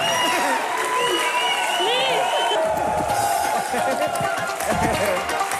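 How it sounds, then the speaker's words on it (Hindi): Studio audience applause and cheering on a comedy talk show: a continuous wash of clapping with whoops and crowd noise, steady and fairly loud throughout, over faint music and voices. "सिद्धू पाजी के लिए जोरदार तालियां जरा"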